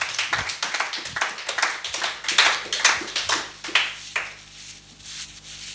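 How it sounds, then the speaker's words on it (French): A church congregation applauds during an evangelist's sermon, a crowd of hands clapping loudly and close with bursts that rise and fade over several seconds before thinning out toward the end. "Acclamons la parole du Seigneur."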